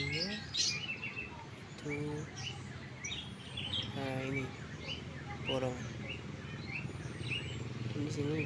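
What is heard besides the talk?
birds chirping at a bird market, including lovebirds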